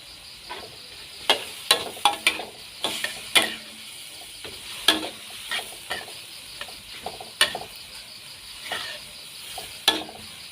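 Young chilies and onion go into a sizzling Thai beef stir-fry with dried chilies. A spatula clacks and scrapes the pan in quick irregular bursts over a constant frying hiss, close and fairly loud.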